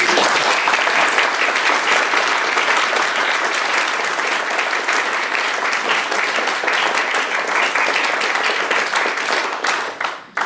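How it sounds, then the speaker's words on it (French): Sustained audience applause from an event crowd fills the whole stretch, dense and steady clapping throughout that tapers off only at the very end. "je vous propose vraiment de l'applaudir"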